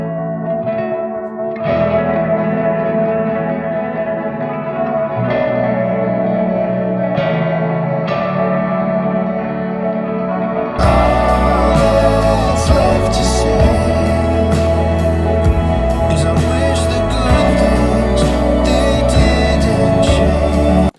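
Layered electric guitars play together, starting sparse and thin, then thickening into a dense, loud wall of sound with echoing effects about halfway through.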